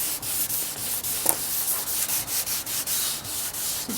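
A surface is sanded smooth by hand before painting, with quick, steady back-and-forth rubbing strokes that are loud, close and uninterrupted by speech.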